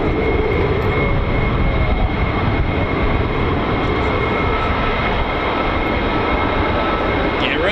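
Low-flying US Air Force F-15 fighter jets near RAF Lakenheath, a loud, continuous broadband jet roar that holds steady and eases slightly toward the end, with some talk beneath it.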